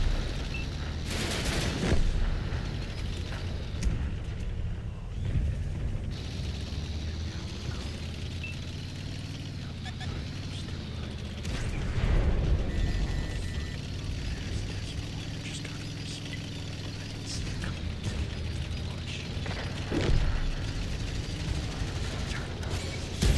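Scattered gunshots and booming blasts from a tank video game pop up at irregular intervals over a low rumbling engine drone, fairly faint overall.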